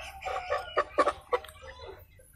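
Kampung chickens cluck in a coop holding three birds, a burst of several close, quick clucks that trails off into softer calls.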